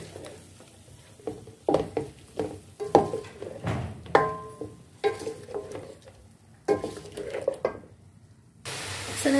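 Chicken with ginger-garlic paste frying in a karahi, stirred with repeated scraping strokes over a soft sizzle, close and irregular, with a sudden louder hiss near the end.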